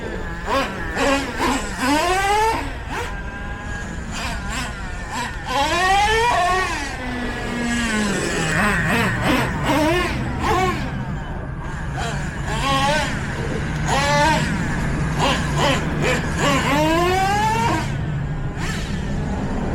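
A Traxxas T-Maxx 3.3 nitro RC truck engine revs in repeated high, buzzing bursts that rise and fall in pitch, loud and close throughout.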